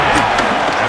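Roaring stadium crowd from a Madden NFL 26 football game between the Cowboys and Bills, a loud, steady wash of cheering noise with brief bursts, under commentary.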